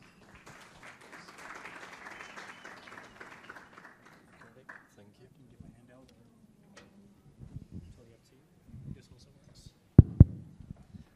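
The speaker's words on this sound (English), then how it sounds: "So please give Tomasz a big round of applause." A conference audience claps to welcome a speaker, a soft, even patter of applause that fades out after a few seconds, followed by quiet room noise and a few loud thumps of microphone handling.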